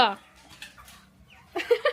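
Roosters and chickens at a home cluck in short bursts, a brief cluck at the start and a louder run of clucks near the end, with a person speaking quietly in between.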